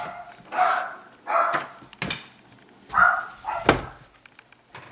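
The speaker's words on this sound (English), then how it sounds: "hear the next door dog's interruptions" A neighbour's dog barks nearby in a series of about five or six sharp, separate barks with short pauses between them, fairly close and clear against a quiet background.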